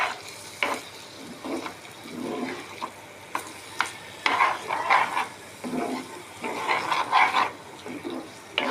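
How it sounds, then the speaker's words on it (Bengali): Fish roe with grated potato is stirred and fried in a pan, with scraping spoon strokes in bursts over a steady sizzle, close and fairly loud. "ডিমগুলো এখন নাড়াচাড়া করবো, ভালো করে নাড়াচাড়া করবে, একটু কষিয়ে নেবো ঢাকনা দিয়ে।"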